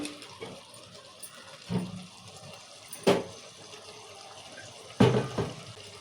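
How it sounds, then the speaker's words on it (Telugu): Water is poured into a pot of mutton curry in three short, close splashy bursts, with a quiet kitchen background between them. "ఇప్పుడు తగినని నీరు పోసుకుందాం మనము"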